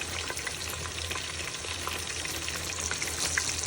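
Turmeric powder fries in hot oil while qurbani meat curry is being cooked, making a continuous crackling sizzle with light stirring throughout, steady and fairly close, with no talking.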